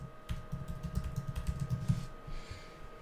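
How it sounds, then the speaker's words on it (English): Someone types a master password on a computer keyboard, a quick run of soft, close key clicks in an irregular rhythm over a faint steady hum, then quiet. "so you're gonna type that in as well"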